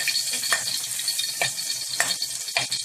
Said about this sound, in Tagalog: Lagyan natin siya ng garlic.